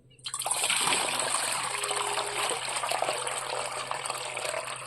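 About one litre of water is poured into a container to dilute homemade compost for rose plants, starting with a sudden splash and then a steady close gush that slowly thins toward a trickle.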